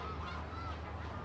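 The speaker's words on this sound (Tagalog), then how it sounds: "Ingay nito mga gansa." Geese honking steadily near a park water fountain, a continuous noisy chorus of calls running through the whole moment without speech.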